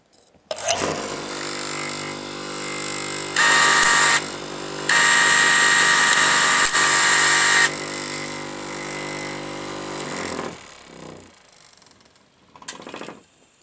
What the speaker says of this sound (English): will activate the sharpening mechanism which will go down and come back for a whole cycle, thus sharpening the blade